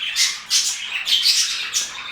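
Frightened parrots squawk at a budgie chick that has strayed near them, giving four harsh, close, loud calls in quick succession.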